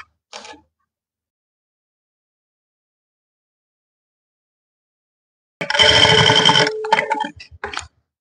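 A sewing machine stitches salwar fabric in two short bursts, a brief clatter at the start and a louder whirring run of about two seconds later, with near silence between them.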